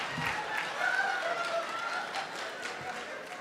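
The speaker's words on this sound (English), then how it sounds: "Don't applaud for that." Steady applause from an audience fills the clip, a dense patter of many hands clapping at a moderate distance with a little crowd murmur.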